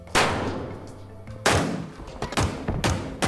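Gunfire from the Halo video game inside an enclosed space, with four sharp shots and a quick pair near the end, each loud crack followed by a short reverberant tail.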